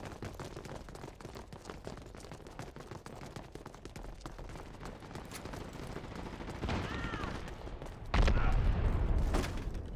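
Video-game gunfire aimed at a turret rattles in rapid bursts of shots, growing heavier toward the end with a booming impact, mixed with other game sounds.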